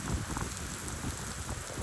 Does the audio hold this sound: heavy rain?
yes